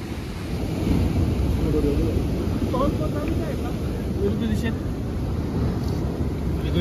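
Big sea waves crashing along the Azhimala coast in Kerala, a constant loud roar of surf buffeted by wind noise, with people speaking over it.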